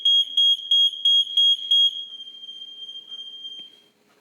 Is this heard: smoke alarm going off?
yes